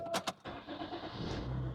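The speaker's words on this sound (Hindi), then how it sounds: "तो गाड़ी में हम आ चुके हैं, अब इसको स्टार्ट करते हैं।" A car engine is started from inside the vehicle: a couple of quick clicks and a short cranking burst, then the motor catches and settles into a steady close idle, with no talk.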